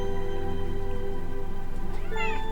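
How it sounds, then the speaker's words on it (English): A pet cat named Mr. Anubis meows under a table near the end, a short rising call that is brief and moderately near, over a steady background hum. "One of my kitties is waking up underneath my table."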